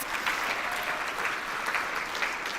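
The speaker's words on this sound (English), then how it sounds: "Round of applause, please." Audience applause at an engineering skills awards ceremony, a dense, even wash of clapping from a seated crowd that holds steady throughout.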